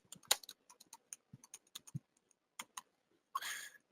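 Keys clack on a computer keyboard in short, uneven bursts of close, quiet taps, ending with a slightly longer clatter.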